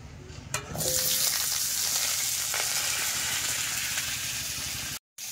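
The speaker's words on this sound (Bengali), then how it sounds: "কড়াই তেল দিয়ে দিয়েছি, এবার তরকারি গুলো দেবো" Vegetables dropped into hot oil in a wok, a sudden splash followed by a loud, steady close sizzle of frying that continues to the end.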